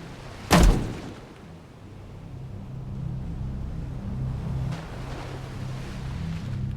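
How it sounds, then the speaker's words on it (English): A depth charge fired from a destroyer in Destroyer: The U-Boat Hunter, a single heavy, loud blast followed by rolling low rumble and steady ship engine drone. "Come on, get those depth charges ready."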